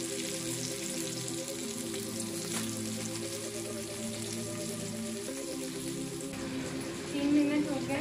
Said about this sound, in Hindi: अब इसे हम टर्न करेंगे। साइड भी 3 मिनट धीमी आंच में पकाएंगे।